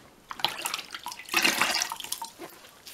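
An ordinary sponge soaked in water is squeezed out by hand, with splashing, dripping and trickling water in short bursts and a fuller gush midway.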